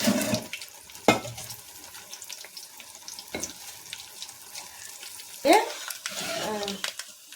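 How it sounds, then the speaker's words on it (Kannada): Curry leaves drop into hot oil and set off a sharp burst of crackling sizzle, followed by a softer ongoing fry. A person talks around the sounds. "ನೋಡಿ ಇವಾಗ ಕರಿಬೇವು ಕರಿಬೇವನ್ನ ಹಾಕ್ತಾ ಇದ್ದೀನಿ ನಾನು"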